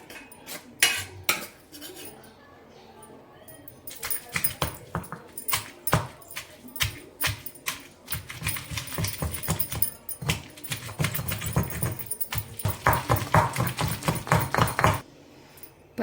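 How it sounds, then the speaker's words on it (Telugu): Green chilies crushed in a stone mortar, a long run of irregular knocking and grinding strikes, sparse at first, then dense and rhythmic, loud and close, with no speech. "ముందైతే పచ్చిమిర్చిని వేసుకొని నూరుకోవాలండి."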